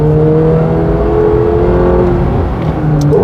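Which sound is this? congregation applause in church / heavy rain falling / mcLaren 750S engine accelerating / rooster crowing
mcLaren 750S engine accelerating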